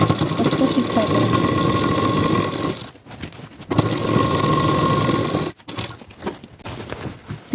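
A sewing machine stitches a plain four-tuck blouse in long continuous runs, stopping in two short pauses. A voice speaks over the whirring.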